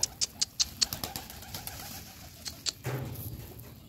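Hungry pigeons, a pair among them with the male chasing the female, coo softly in a home loft, mixed with a run of sharp close chirps and rustling, fairly quiet overall.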